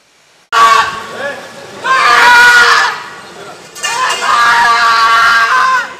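Anguished screaming and wailing from a grieving family after three deaths in a sewage plant accident, loud and strained, coming in long overlapping bursts of crying voices with short breaks between them.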